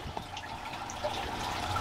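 Water gently tipped from a fish transport bag into a home aquarium holding a predatory native fish, a soft continuous trickle and splash with a few light drips, steady and close, with no talk.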